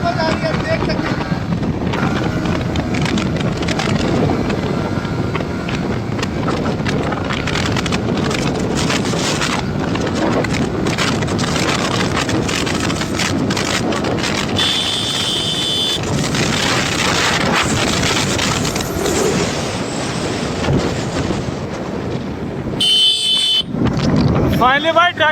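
Yamaha R15 motorcycle in a drag race, engine roaring steadily under heavy wind buffeting, with a brief horn toot near the end and voices talking over the ride.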